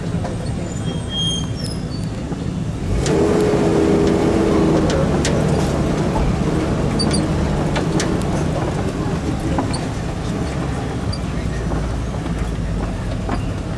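A safari truck rumbles along at low speed, a steady engine drone with rattling and clanking from the vehicle body, constant and fairly loud throughout.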